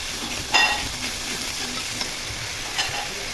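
Onion and ginger-garlic paste fry in hot oil for a chicken and potato curry, giving a steady close sizzle broken by a few stirring scrapes and clinks.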